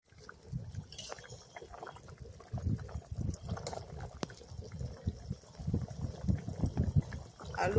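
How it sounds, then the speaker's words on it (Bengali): Water pours into a pot to boil cauliflower and potatoes, a soft, low, uneven splashing and gurgling that stays fairly quiet and continuous throughout. "সেদ্ধ করার জন্য জল দিলাম।"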